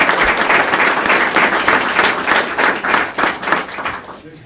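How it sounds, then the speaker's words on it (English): Audience at a school district board meeting breaks into a round of applause, steady dense clapping throughout that thins and fades toward the end. "can we give him a round of applause?"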